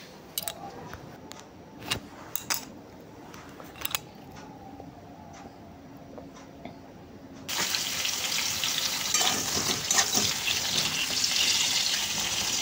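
Pointed gourd (potol) drops into hot mustard oil in a pan, and a loud, bright sizzle suddenly takes over after several seconds of quiet kitchen clatter, then holds steady.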